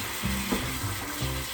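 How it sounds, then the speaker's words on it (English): Apple pieces sauteing in a hot pan for a pork chop dish, a steady close sizzle and frying hiss with faint stirring bumps throughout. "when I saute the apple off for the pork chop"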